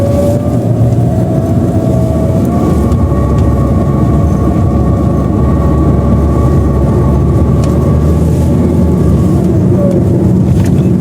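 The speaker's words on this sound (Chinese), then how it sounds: "就是加油门的时候嗡嗡的响" A Chery Arrizo 5 with a CVT gearbox and about 150,000 km gives a steady droning whine under a loud engine rumble as the accelerator is pressed, continuous and close for several seconds.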